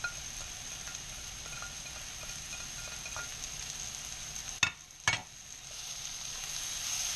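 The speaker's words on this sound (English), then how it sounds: "we can go ahead and put the garlic in there now" Garlic frying in a pan for beef stroganoff, a low, steady sizzle and hiss beneath a high whine, broken by two quick clattering knocks of a utensil near the middle.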